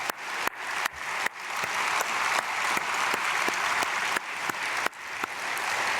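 A congregation at a Korean church dawn prayer service, Myungsung Church, applauds together in a sustained burst of many hands clapping, with steady dense clatter and a few louder accents over about six seconds.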